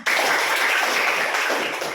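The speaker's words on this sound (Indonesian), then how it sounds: "tepuk tangan" Students in a classroom clap their hands together in a dense, sustained burst of applause lasting about two seconds, loud and close, with no talking over it.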